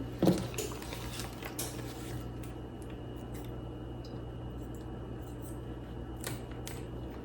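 A few quick snips of scissors near the start, then soft rustling and light ticking handling noises with a steady background hum.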